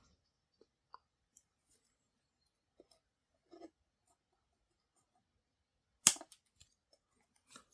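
Scissors cut fiber optic cable from a Vastfire starlight headliner kit in a very quiet setting. A few tiny clicks lead up to one crisp, sharp snip near the end.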